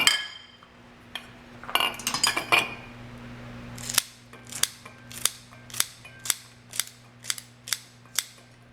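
A 2-in-1 knife and cutting board tool slicing through okra, a rapid cluster of crisp chops followed by a steady series of sharp, evenly spaced snips, close and clear with no talking.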